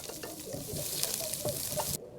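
Garlic and onion sizzle in hot cooking oil with a close, continuous crackle and the scrape of stirring, stopping abruptly near the end.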